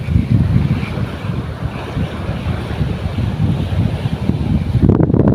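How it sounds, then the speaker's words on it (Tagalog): Strong wind at the Palawan seashore buffets the microphone with a constant low rumble, mixed with the wash of surf in the background. "Malakas ang hangin"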